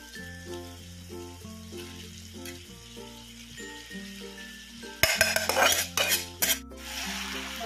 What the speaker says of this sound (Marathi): मी आता मिक्स करत आहे